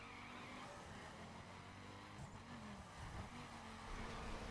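A Ford Focus RS in perf spec driven in the racing game The Crew, its engine droning steadily with tire noise and skidding throughout, loud and continuous with no talk.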